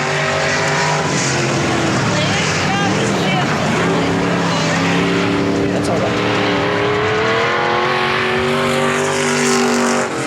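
Race car engines drone loudly at South Texas Speedway, with one car running rough. Their pitches rise and shift as cars pass, and a voice speaks over the engines.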